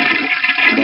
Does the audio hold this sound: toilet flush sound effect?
yes